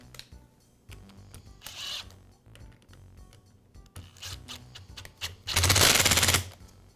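A cord clamp fastened on a Makita band saw during a power-cord replacement, heard as scattered clicks and knocks and then a loud, rapid whirring burst from a power driver near the end.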